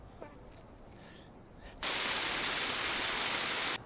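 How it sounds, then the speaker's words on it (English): Steady broadband roar of Yosemite Falls, the waterfall heard from a distance in snowy Yosemite, rising suddenly to a loud, constant hiss-like rush that holds evenly for about two seconds before cutting back down; no talking. "I think that's the actual Yosemite Falls."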